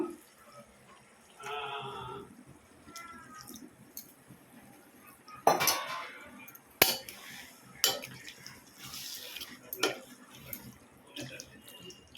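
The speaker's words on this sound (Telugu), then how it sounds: "ఒక చిన్న కప్పడి మందం వాటర్ అయితే పోసేసాను" A small cup of water is poured into a pan of bottle gourd and prawn curry in short splashing bursts, mixed with clinks of a utensil against the pan.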